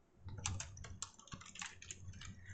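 Someone types on a computer keyboard nearby in quick, uneven bursts of crisp key clicks with a few heavier thumps, and nobody speaks.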